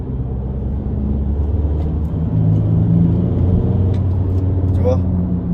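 A 2008 Audi A3 8P engine at full throttle around 1700 rpm, heard from inside the car as a steady, loud low rumble with road noise.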